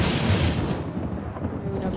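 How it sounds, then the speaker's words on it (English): Thunder rolls during a thunderstorm, a loud, continuous low rumble with no talking over it. "Thunderstorms."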